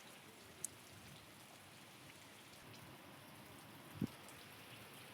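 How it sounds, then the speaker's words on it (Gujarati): Steady monsoon-season rain falls in Rajkot, India, in a constant soft hiss, with a couple of brief louder drips or knocks standing out; no voices. "તો અત્યારે હાલ વરસાદ આવ્યો છે"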